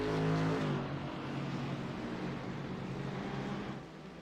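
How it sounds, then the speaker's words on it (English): Race cars in a GT sim race at Summit Point, a loud, steady engine roar that starts with a revving pitch and then settles into a dense drone of several cars together, with no talk. "Look at that train of cars on the run down into the first corner then"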